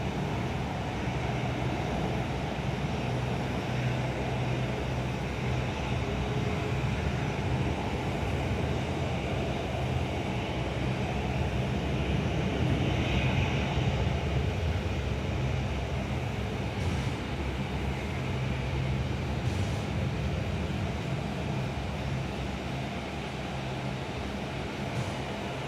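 Steady broadband jet roar from a Philippine Airlines airliner, flight 223 from Manila, arriving at Perth airport, sustained and fairly distant with a continuous low rumble throughout and no talk.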